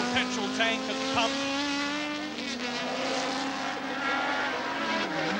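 Ford Escort rallycross cars racing at the 1980 British Rallycross Championship finals, engines droning steadily with a rising and falling pitch, under continuous commentary.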